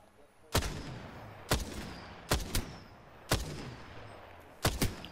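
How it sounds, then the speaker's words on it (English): Gunfire in the video game Apex Legends: five or six sharp, punchy shots, some in quick pairs, spaced irregularly over a faint background hum. "The enemies are shooting at me."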